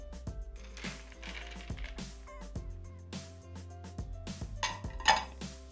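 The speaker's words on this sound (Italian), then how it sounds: "Chiudiamo il coperchio con il coperchio del Varoma" Clattering and clinking of a Thermomix TM6 lid being closed with the Varoma lid on top, several sharp plastic and metal knocks in an irregular rhythm, close and fairly quiet.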